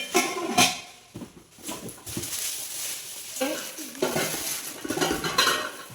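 Steel vessels and lids clank and clatter close by in uneven bursts at a housewarming gift unboxing, with chatter from several people mixed in throughout.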